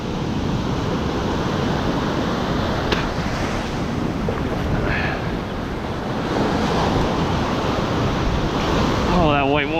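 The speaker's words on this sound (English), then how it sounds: "waves are getting a little bigger as the tide is getting a little higher" Ocean surf rolling in on a foggy morning shoreline during striped bass fishing, with waves growing as the tide rises; a steady, continuous wash with heavy wind buffeting the microphone throughout.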